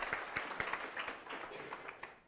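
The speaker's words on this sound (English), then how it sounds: "That deserves a round of applause." A small live-event audience gives a round of applause, individual claps distinct and fairly close, fading toward the end.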